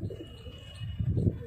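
Rampuri pigeons, a high-flying fancy breed, give low soft coos close by, with a louder burst of cooing toward the end over light background noise.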